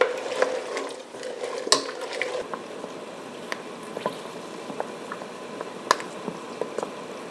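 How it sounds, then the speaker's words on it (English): Cranberries simmering in a sugar solution in a pot: a soft, continuous bubbling wash close by, broken by scattered sharp pops and ticks as skins burst, with no talk. "I'm just going to add the cranberries and let them simmer for a little while until the skins start to pop."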